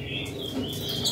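Red-cowled cardinal chirping in a short series of high, thin tweets at moderate distance, set against a low, steady background rumble.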